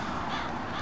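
Crows caw in a brief, rough burst outdoors, blending into a broad wash of background noise.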